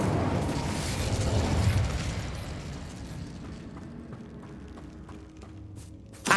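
In Hogwarts Legacy, an Incendio fire spell goes off as a loud, broad roaring blast that slowly decays into a rumbling, crackling tail, with a sharp pop at the very end.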